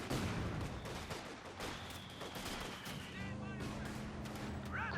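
Dense machine gun bursts and booming mortar and artillery explosions in a Company of Heroes 2 battle, loud and continuous, with a commentator talking over the gunfire.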